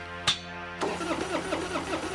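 A car engine struggling to start: a sharp click, then a steady rhythmic churning and sputtering that never settles into a clean idle, heard close and alone.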